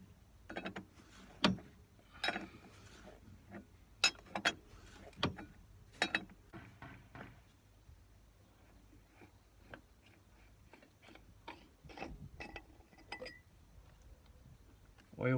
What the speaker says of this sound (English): now that the oil's been drained, we'll just take the oil filter off